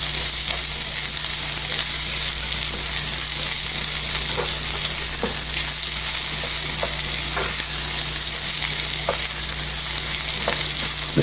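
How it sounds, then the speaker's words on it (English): Diced onions sweating in a pan, a steady soft sizzle and crackle of frying with occasional stirring scrapes, moderately quiet and continuous with no talking. "Just get your onions sweated out a little."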